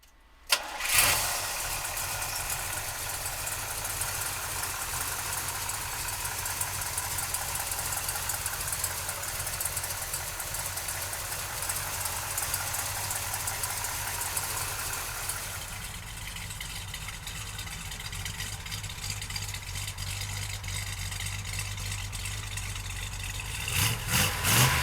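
1970 Chevrolet Chevelle engine cranking and firing up, then settling into a steady, loud idle with a rough, throbbing low rumble that eases slightly later on, with no talking.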